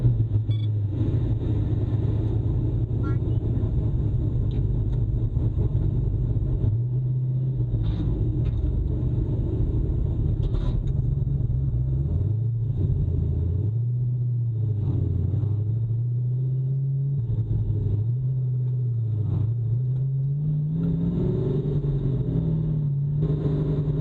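A Superlite SLC sports car engine rumbles steadily throughout, its pitch rising and falling as the car accelerates and shifts, heard from inside the cabin.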